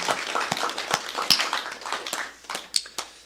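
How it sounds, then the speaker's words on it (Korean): A church congregation applauds during a Sunday service, with many hands clapping in a steady, reverberant patter and a few sharper claps standing out, sustained for about three seconds. "우리 하나님께 영광의 박수를 드리겠습니다."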